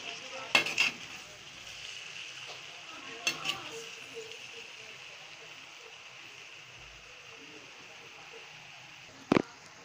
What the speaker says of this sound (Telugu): ఇలా రైస్ వేసుకొని బాండీలో ఇలా మనం పైకి కిందకి కలుపుకోవాలన్నమాట.